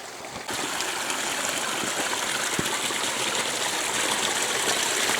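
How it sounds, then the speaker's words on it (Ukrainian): Water streams along a road in a steady, full rushing gurgle, close and continuous, with no voices over it. "Наче це дорога, а наче це вже струмок."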